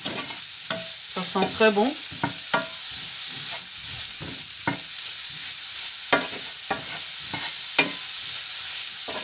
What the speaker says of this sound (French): je vais mettre une bonne cuillère à café d'ail en poudre et je vais mélanger.